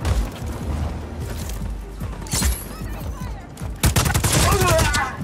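Rapid gunfire in the video game Just Cause 4 as a player shoots at an enemy, with dense bursts of loud shots, crashes and booms running throughout amid other game sounds and some talk.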